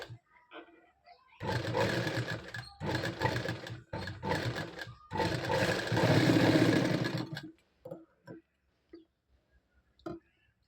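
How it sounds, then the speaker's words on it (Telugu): Sewing machine stitching white thread while tailoring blouse hangings, running in several steady bursts of a second or two each, close and fairly loud, separated by short pauses and a few light clicks. "నేను ఇక్కడ మీకు కనిపించేలాగా వైట్ కలర్ థ్రెడ్ తోటి స్టిచ్ చేస్తున్నాను."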